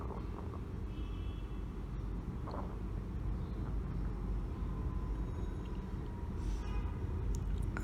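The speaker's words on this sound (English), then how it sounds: "Alright, there's a plane moving." A passing airplane flies overhead above a park, heard as a steady, broad, low rumble that holds at a fairly constant level throughout without fading away.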